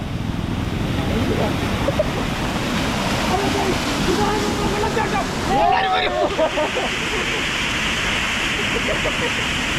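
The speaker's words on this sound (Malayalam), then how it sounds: "ഇതാണ് നമ്മുടെ വെള്ളച്ചാട്ടം" Waterfall at Kakkadampoyil, a loud continuous roar of rushing water with some wind buffeting the microphone, steady throughout with faint voices underneath.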